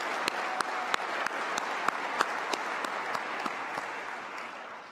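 Sustained applause from a convocation audience honoring scholarship awardees, an even wash of many hands clapping with a few sharper individual claps standing out, fading slightly toward the end.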